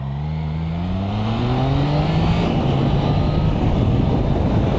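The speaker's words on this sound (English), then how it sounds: "Oh, there's a car." Riding a Triumph Trident 660 motorcycle, its engine note rising steadily through the gears while another car is passed, with loud, continuous wind rush building throughout.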